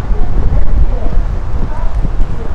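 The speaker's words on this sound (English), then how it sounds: "it's windy out here." Wind blowing outdoors, a cold gusty roar buffeting the microphone with heavy low rumble throughout, fairly loud and unsteady.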